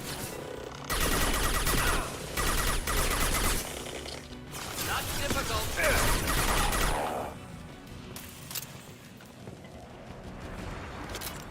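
Gunfire in a Mass Effect Legendary Edition firefight: loud bursts and volleys of shots in clusters over several seconds, then easing to quieter scattered combat noise, with voices calling out over it.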